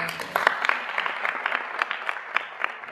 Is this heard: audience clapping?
yes